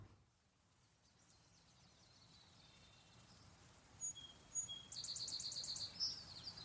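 Faint bird chirps and tweets by a creek sound over a soft outdoor background hiss, growing a little busier and brighter toward the end.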